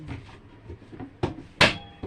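Cutlery drawers in a caravan kitchen being handled, a few soft rumbles and knocks followed by two sharper clacks as a drawer slides and bumps shut, close and otherwise quiet.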